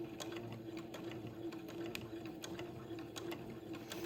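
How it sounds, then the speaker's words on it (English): Close, steady hum of a sewing machine running a straight stitch, with a faint rapid needle tick carrying through at an even pace and no pauses. "just sewing immediately to the right of the entree ladder using a straight stitch"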